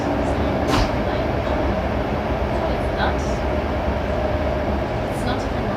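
A fast train rumbles steadily from on board, a dense, even roar of wheels and car noise with occasional faint higher squeaks, continuous and unbroken.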